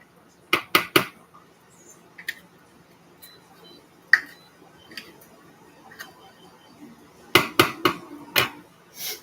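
A spoon knocks and clinks against a pot while stirring, sharp metallic taps in small clusters separated by quiet stretches, close and fairly loud, with faint talk in between.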